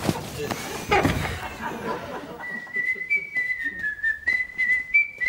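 A man whistles a bright tune while walking to the barracks, a wavering melodic line that follows a noisy stretch of rustling and chatter.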